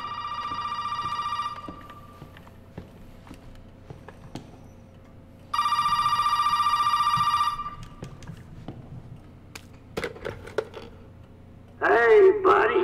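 Telephone ringing inside the video game Resident Evil 7, two loud electronic ring bursts a few seconds apart over a quiet, low background, followed by a brief burst of other game sound near the end.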